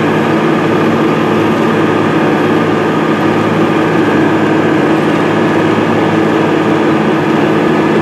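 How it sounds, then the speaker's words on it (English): Case IH 580 Quadtrac tractor pulling a Kuhn Krause Gladiator tillage tool across a field at about six miles per hour, a steady loud diesel drone heard from the cab with no variation and no talking. "tractor is running at just over 6 miles per hour."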